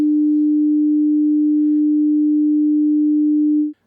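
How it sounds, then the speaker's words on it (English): A pure, steady low-pitched 300 Hz sine tone sounds alone for about three and a half seconds, then stops abruptly. "Go up another 100 Hz and you get a 300 Hz sine wave,"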